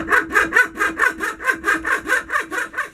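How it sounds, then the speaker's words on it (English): A hacksaw cutting a slot into a wooden bushcraft axe handle: about a dozen loud, close back-and-forth rasping strokes in a steady, even rhythm, with no voices. "I'll just do it with this hacksaw"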